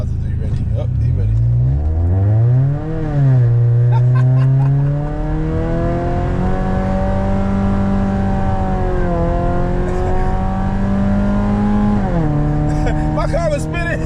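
A Mazda 3 accelerates hard in a street race, its loud engine note climbing through several gear changes with sharp pitch sweeps and brief drops between shifts, droning close by for about fourteen seconds.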